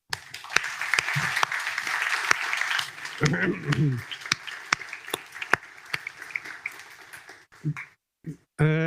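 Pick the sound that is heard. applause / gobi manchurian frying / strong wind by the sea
applause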